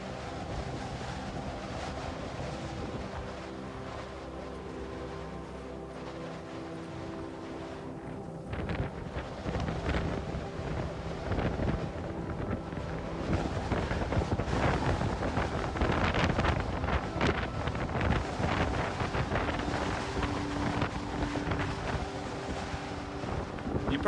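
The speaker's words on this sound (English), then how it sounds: "You probably can't hear me because of the wind up here." Strong wind on a mountain summit buffets the microphone in heavy, continuous gusts that roar louder after the first few seconds, with no voices.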